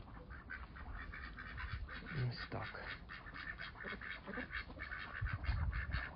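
Ducks quack repeatedly on a farm, among older hens, in a steady cluster of calls near the microphone, with a brief spoken comment at one point.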